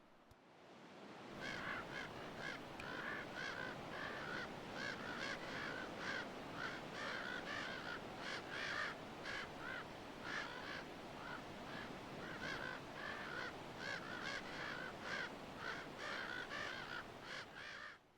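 Ravens call repeatedly along the coast at Crystal Cove, giving a long run of rough, hoarse caws in uneven bursts over a steady background hiss of surf, moderately near and continuing throughout.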